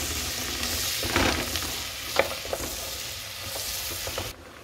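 Asafoetida dropped into hot oil for a curry made with garlic, a steady close sizzle and frying hiss with a few stirring scrapes, alone without voices, cutting off abruptly at the end.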